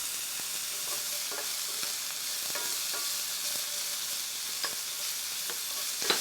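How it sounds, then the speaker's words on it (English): Garlic and onions frying in a pan over medium heat for a vegan chorizo and white bean stew, a steady sizzle with scattered soft clicks of a spoon stirring throughout. "stir it, medium heat, garlic a lot"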